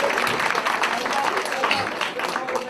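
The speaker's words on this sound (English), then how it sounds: "if we could go ahead and give a round of applause to these individuals" Audience applause at a ceremony honoring individuals, a dense continuous round of clapping that fills the short clip at moderate loudness.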